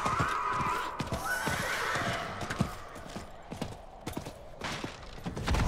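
Horse hooves clip-clop in a galloping rhythm inside the Diablo video game, with whinnies and neighs rising over the hoofbeats at moderate, steady loudness throughout.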